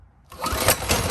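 Small engine of a Coleman CT200U EX mini bike catching on a pull-start after near silence, then running in a loud, close, rough sputter with uneven surges.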